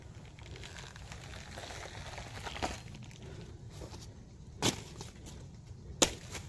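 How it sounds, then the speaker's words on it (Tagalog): Rain falls outdoors as a steady, soft hiss throughout, broken by a few sharp close knocks or drips, with no voices. "Ulan na ulit."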